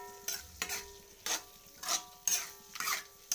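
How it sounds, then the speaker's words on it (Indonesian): Bakso aci being stir-fried in a pan, soft sizzling under repeated rhythmic scraping and stirring strokes of a utensil against the pan, fairly quiet and close. "mengoseng-oseng sebentar saja ya teman-teman"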